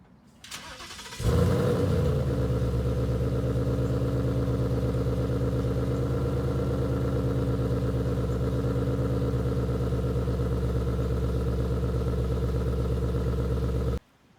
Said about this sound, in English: Let's look at the clip of a cold start with these Corsa Extreme Catback in quiet mode.